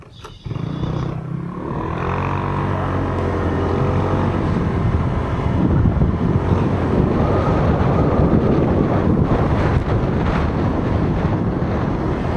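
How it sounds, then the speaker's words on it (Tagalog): Strong wind buffeting the microphone at a farm resort campsite in Infanta, a loud, continuous low roar with gusty fluctuations, and no talking. "Hangin."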